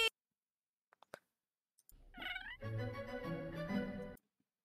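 Pet cat meowing indoors, a few faint clicks first, then a drawn-out, close, wavering meow lasting a couple of seconds before silence.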